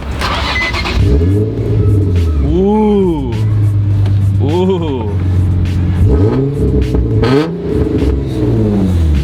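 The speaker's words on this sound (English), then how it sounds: "You guys gotta hear how loud and how sick this car sounds" A loud Z sports car engine revs repeatedly, pitch sweeping up and down in bursts, close by, with a person exclaiming between revs.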